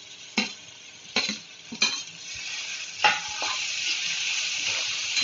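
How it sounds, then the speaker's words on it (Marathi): Chopped tomato drops into onions frying in hot oil for an egg curry, bringing a few sharp scrape-and-stir clatters from a spoon in the pan over a steady, close sizzle. "हे बघा आता मी टोमॅटो टाकते चिरलेला."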